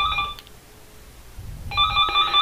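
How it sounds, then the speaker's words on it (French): A target phone rings during a callback, two short bursts of electronic ringing separated by a brief quiet gap, clear and close. "Même s'il raccroche, le téléphone va continuer à sonner."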